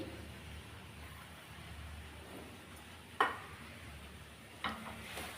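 A thickening sweet mixture with peanuts is stirred in a pan on the stove: a faint, steady low sizzle runs throughout, broken by two sharp scraping knocks of the spoon against the pan.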